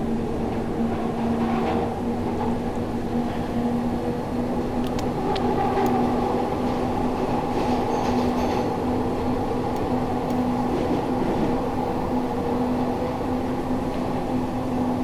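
A Glasgow Subway 1980 stock train in the Thomson Interactive simulator game accelerating at full power, a steady motor whine and rolling rumble with a sustained tonal hum, continuous and loud.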